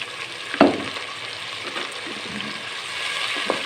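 Chopped tomatoes simmer in a pan with a splash of water for an aloo biryani base, giving a steady soft sizzle and bubbling hiss with a brief clatter near the start and another near the end.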